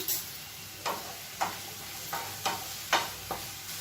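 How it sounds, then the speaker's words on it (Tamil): Large onions sautéing with a little salt in a pan for an egg white kurma, heard as about six evenly spaced spatula scrapes over a faint, steady sizzle, close and with no talk. "வெங்காயம் நல்லா வதங்கணும்."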